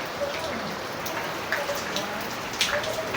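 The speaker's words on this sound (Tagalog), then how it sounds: "Ayan, umuulan, walang katigilang ulan." Steady rain falls and patters on surfaces, with occasional louder drips standing out against the constant hiss.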